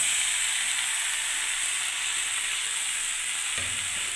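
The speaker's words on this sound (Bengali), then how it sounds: "এবারে দেখুন বন্ধুরা আমি যে সেদ্ধটা করে রেখেছিলাম বিট, গাজর, পাঁচমিশালি সবজিগুলো এবার আমি এর মধ্যে ঢেলে দিচ্ছি।" Boiled beetroot, carrot and mixed vegetables hitting a hot oiled pan, a steady loud sizzle and hiss running throughout with a soft thud of stirring near the end, close by and without speech.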